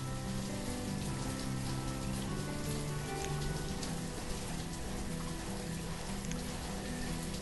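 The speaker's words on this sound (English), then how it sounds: "even though it's raining" Rain in the city-building game Banished, a dense, even hiss of rainfall with soft droplet taps, steady and fairly loud with no voices and a faint tonal backdrop beneath.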